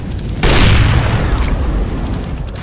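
A grenade detonates in a video game: one loud, booming blast with a short rumbling tail that fades over about two seconds.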